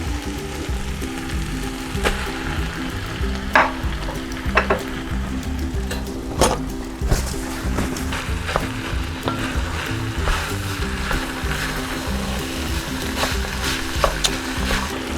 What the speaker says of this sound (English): Now we're gonna throw the chopped meat in.